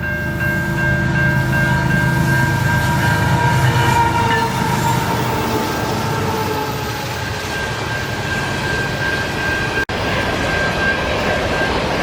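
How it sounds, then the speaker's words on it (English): A CPKC freight train rumbles past close by for a long stretch, loud and steady, with a sustained tonal whine and a sharp click near the end. "Guess we get a CPKC train before we're leaving."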